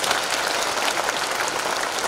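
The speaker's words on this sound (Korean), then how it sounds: "다시 한번 박수 한번 주시죠." A church congregation claps steadily at a thanksgiving worship service celebrating a vice-moderator's inauguration, a dense, even wash of applause filling the room without a break.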